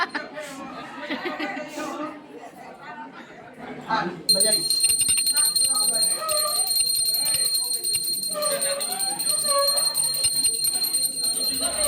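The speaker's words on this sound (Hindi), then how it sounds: "यहाँ शंख बजाने का फर्स्ट अटैम्प्ट तो दीदी का बहुत अच्छा था, बट सेकंड अटैम्प्ट में थोड़ा सा कॉमेडी हो गया था" A conch shell is blown at a Hindu mundan (head-shaving) puja, giving a loud, steady, bright tone that starts partway through and holds to the end, with chatter and laughter from the gathered family throughout.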